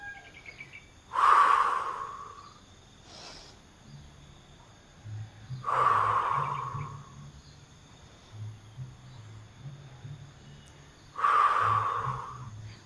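Audible breathing during a yoga session, with three loud, close breaths voiced deliberately for others to follow, each a rushing exhale spaced several seconds apart, with a soft low hum between them.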